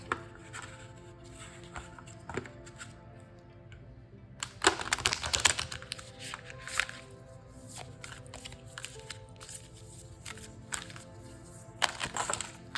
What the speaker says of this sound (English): So I'm just going to shuffle this deck.